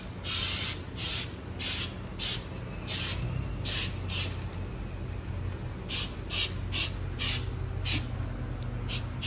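Aerosol can hissing in a long run of short, evenly spaced bursts while parts of an AWD Chevelle are sprayed, with a steady fan-like drone underneath throughout.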